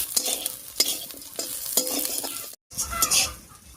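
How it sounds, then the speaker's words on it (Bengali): Whole garam masala with lightly crushed cardamom and other spices frying in oil in a pan, a close, crisp sizzle broken by repeated scraping stirs of a utensil, with a brief silent gap near the end. "সব মশলাগুলো হালকা করে ভাজা হয়ে গেছে, এবার এর উপরে দিয়ে দিচ্ছি গোটা গরম মশলা"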